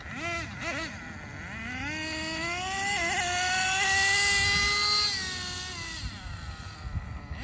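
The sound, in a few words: nitro RC car engine running on test run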